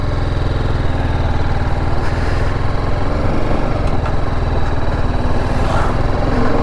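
A TVS Apache RR 310 motorcycle being ridden, its engine droning loud and steady with a constant low throb and no voices over it.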